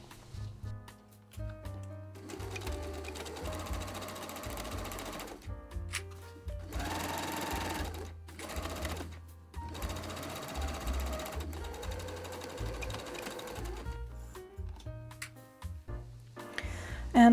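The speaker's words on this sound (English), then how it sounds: "I will flip everything and sew it to the seam allowance of the other side" A sewing machine stitches a zipper down to the seam allowance of a dress, a steady rapid mechanical whirring clatter in long runs with short stops and restarts, close and clear, with no talking.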